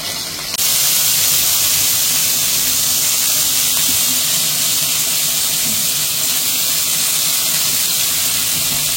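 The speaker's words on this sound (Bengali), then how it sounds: "কড়াই বসে নিছি, তেল দিয়ে নিছি, তেলটা গরম হয়ে গেছে। এখন মাছগুলো দিয়ে নিব।" Pabda fish fry in hot oil in a wok, giving a steady, loud sizzle and hiss that starts abruptly and holds without a break.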